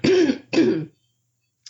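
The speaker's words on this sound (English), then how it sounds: "clear my throat." A person clears their throat twice in quick succession, close and loud, followed by silence.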